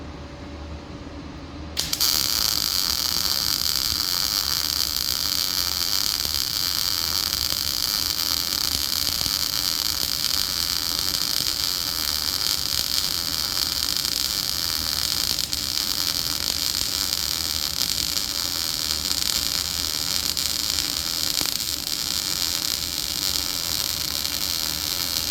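Steel plate welded with a 5-in-1 welder, likely flux core: after a brief quiet start, a steady loud crackling hiss with a buzzing hum runs without a break to the end.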